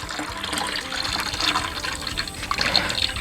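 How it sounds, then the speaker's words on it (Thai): Microbial liquid, bought by the bottle, poured into a sea-fish and pineapple ferment: a steady splashing, gurgling pour that stays loud and close for the whole stretch, with no talk over it. "เนี่ยหมุนเลยก็ได้นะครับใส่ลงไปเลย"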